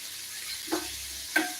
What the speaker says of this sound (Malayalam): നമ്മൾ അണ്ടിപ്പരമ്പ് മുന്തിരിയാണ് ഇപ്പോൾ റോസ്റ്റ് ചെയ്തുകൊണ്ടിരിക്കുന്നത് ആ ചെറിയ ഇരുമ്പലട്ടിയിൽ